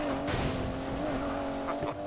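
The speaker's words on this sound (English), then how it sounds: "It's not every day I get to take Weir's DB11 for a spin." Aston Martin DB11 in the racing video game Need for Speed Payback, engine droning steadily up close with a whine, tire squeal and skidding texture throughout, continuous and fairly loud.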